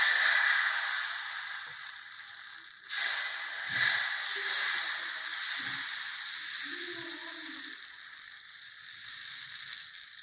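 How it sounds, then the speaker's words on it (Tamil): Dosa batter sizzles steadily on a hot stone griddle greased with sesame oil, a loud, continuous frying hiss with a few soft clinks and movements underneath. "கல் காஞ்சிட்டுங்க, தோசையை ஊற்றிடலாம்."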